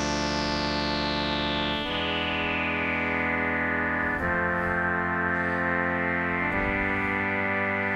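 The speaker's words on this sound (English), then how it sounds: "you can hear it affecting the filter cutoff point very slowly there" An ARP Omni-2 synthesizer holds a sustained, buzzy chord while a slow LFO sweeps the filter cutoff, the brightness gradually falling and shifting, with a few soft re-articulations across the steady, loud tone.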